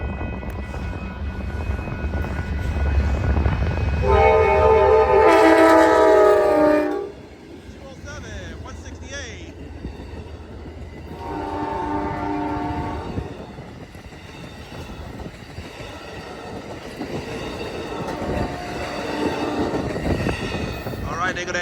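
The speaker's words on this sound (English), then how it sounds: "Here comes Amtrak 5, the California Zephyr, on its way to the Bay Area" Amtrak's California Zephyr passenger train, led by a P42DC diesel locomotive, passes a street crossing in Reno, Nevada, sounding its horn in long blasts over a steady rumble of engine and rolling cars.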